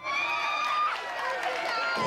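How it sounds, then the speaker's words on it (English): A bar crowd breaks into loud cheering and shouting at the O.J. Simpson verdict, a dense burst of overlapping voices with whoops and yells that carries through to the end. "Tension erupted in a cheer"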